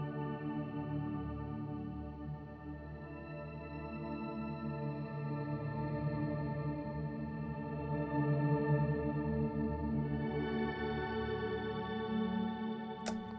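Sustained electric guitar chords through a Chase Bliss Dark World reverb pedal, washed in heavy reverb and chorus, notes blurring into a shimmering, echoing tail.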